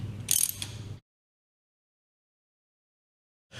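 A single short metallic pop and clunk as a cam bolt snaps into lock during an Armour valve Camseal cartridge replacement, followed by silence and then a faint scrape at the end.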